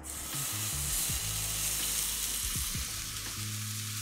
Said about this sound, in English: So I'm just gonna very quickly sear this